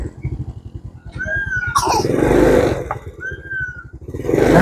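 Motorcycle engine idles with a rapid, loud low thrum close by, then revs up in rising surges with brief pauses between them.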